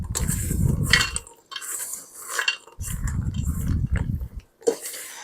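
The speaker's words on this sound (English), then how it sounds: "I'm going to just mix these in with the spatula" Close scraping and clinking of a spatula working blueberry lemon loaf batter in a bowl, two sustained bursts of stirring separated by brief pauses, with a short knock near the end; no talking.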